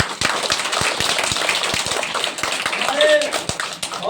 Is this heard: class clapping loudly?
yes